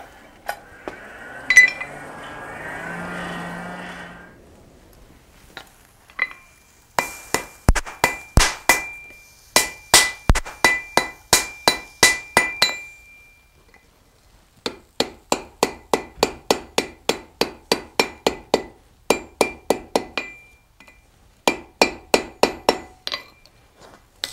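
Sharp metallic strikes of a wet hammer on metal over an anvil ring out in fast rhythmic bursts, dozens of blows with short pauses between runs, close and loud.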